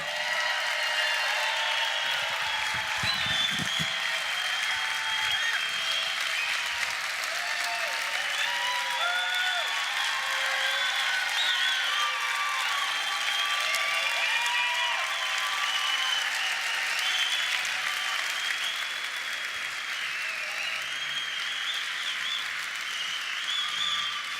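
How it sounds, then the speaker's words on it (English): Sustained applause from a large convention audience, dense steady clapping that stays loud and even from start to finish. "why are all these people clapping for grandpa?"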